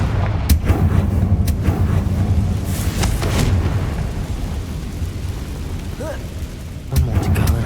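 A Confringo fire-spell explosion from Hogwarts Legacy booms over a dense low rumble of game noise, with sharp blasts near the start, a cluster around the third second and another burst near the end.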